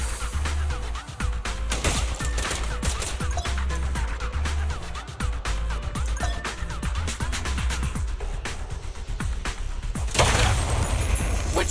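Gunfire in the action game Zenless Zone Zero, a dense, continuous barrage of shots and impacts with heavy low booms throughout, loud and close, and a brief louder burst near the end.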